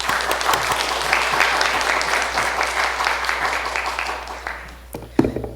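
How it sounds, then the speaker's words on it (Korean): Church congregation applauding to welcome a pastor to the pulpit at a Sunday afternoon service, steady dense clapping filling the room for about five seconds before fading, then a few sharp noises. "목사님 나오실 때 큰 박수로 맞이해 주시기 바랍니다."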